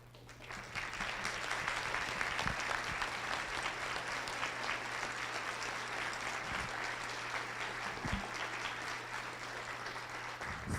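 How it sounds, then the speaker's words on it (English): A room full of people applauds dedicated AP teachers at a school awards breakfast, steady dense clapping that holds for about ten seconds, loud and continuous, with no talking over it. "They can have a round of applause as well."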